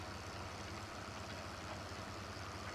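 Tractor engine in Farming Simulator 2013 pulling a big plow, a steady idling drone with a low pulsing throb, moderately faint and unbroken, no talking.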